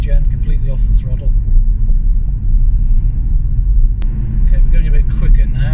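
A Hyundai Kona Electric rolling at around 40 mph with the throttle fully released under regenerative braking, giving a steady, loud low road and tyre rumble throughout, with a voice talking over it.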